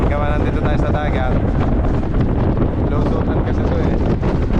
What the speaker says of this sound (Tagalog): malakas ang hangin. Gawa nandito tayo sa dagat.